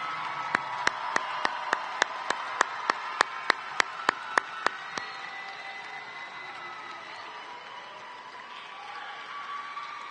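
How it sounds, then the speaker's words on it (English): Applause at a graduation ceremony heard as a series of about sixteen sharp, evenly spaced claps, fairly faint over a roomy hall background, fading out and leaving the room ambience alone. "give a round of applause to everyone that's been here to support you tonight and throughout your journey"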